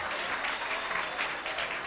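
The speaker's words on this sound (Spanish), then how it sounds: "Aplauso para ustedes." An audience at a talk on inclusive teaching practice claps steadily for about two seconds, a dense, even wash of applause that fills the clip with no voices over it.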